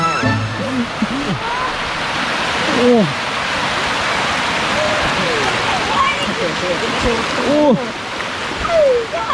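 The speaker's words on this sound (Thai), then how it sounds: "ดูครับน้ำตกอีกหนึ่งที่นะครับ" A waterfall in a stream gives a loud, steady rushing roar of water close by, with birds chirping intermittently and a man's exclamations over it.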